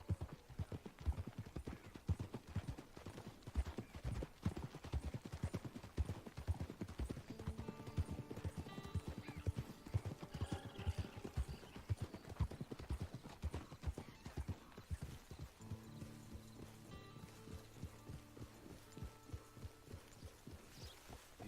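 Horse hooves clip-clopping steadily at a walking pace in the game Red Dead Online, close and rhythmic throughout, with soft whinnies and ambient tones layered over the hoofbeats later on.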